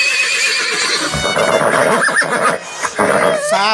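A horse whinnies clearly, loud and close, over a busy mix of voices and background noise.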